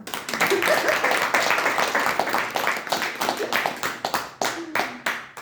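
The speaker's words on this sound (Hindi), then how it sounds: "मेरे लिए ताली बजाओ" An audience claps in response to a call from someone speaker at a talk, the irregular hand claps steady for several seconds, then thinning out, with a few voices faintly audible underneath.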